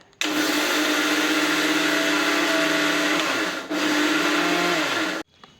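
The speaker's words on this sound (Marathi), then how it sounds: "आता मिक्सरमध्ये बारीक करून घेऊ आपण लगेच मिक्सर थोडं चालू बंद करत आपल्याला बारीक करायचं" Kitchen mixer grinder coarsely grinding khurasani (niger seed) chutney: a loud, close, steady whirring roar that dips briefly in the middle, then runs again before cutting off abruptly.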